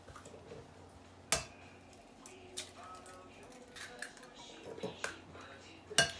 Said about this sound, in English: So I've got my nice farm fresh eggs here. I'm just going to crack into this.